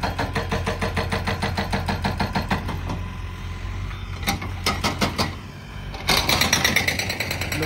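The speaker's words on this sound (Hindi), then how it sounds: "बाइक" A motorbike engine runs steadily nearby with a rattling, pulsing mechanical drone, briefly dipping in the middle and then growing louder toward the end, with no speech.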